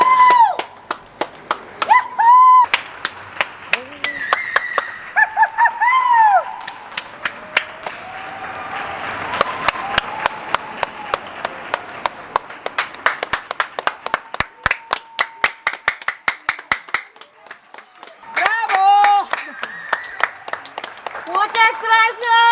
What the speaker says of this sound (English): people just start standing by the windows and start clapping